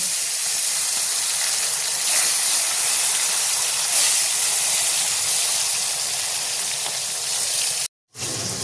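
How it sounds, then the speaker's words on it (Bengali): Fish pieces rubbed with salt and turmeric fry in hot oil in a kadai, a loud, continuous close hiss and sizzle that runs unbroken before a brief cut near the end. "এখানে দেখুন মাছ একটু লাল করে ভেজে নেব"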